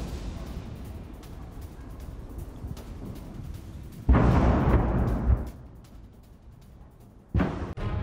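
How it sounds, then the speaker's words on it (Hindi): Artillery shelling in Stakhanov, Ukraine: a low rumbling background broken by a loud booming burst around midway that fades out, then a second shorter blast near the end, heard from a distance. "यहां आर्टिलरी से गोला दागा जा रहा है"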